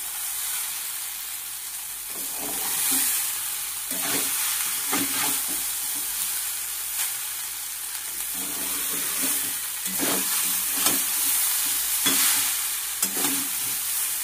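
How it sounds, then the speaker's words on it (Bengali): Chow mein noodles stir-frying in a pan with cauliflower, a continuous sizzle broken by repeated scraping strokes of a spatula every second or two, close and fairly loud, no talking. "ভাজাটাও হয়ে গেছে, এবারে চাউমিনগুলো দিয়ে দেবো।"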